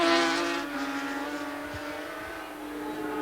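Racing sidecar outfit in Royal Mail GPO livery passing at speed on a road course, a loud engine whine that fades slightly as it goes by.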